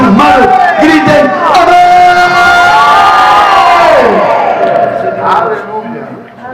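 A church congregation shouts and cheers loudly during a Spanish-language worship service, a dense wall of voices with whoops rising over it, sustained for several seconds before easing slightly at the end.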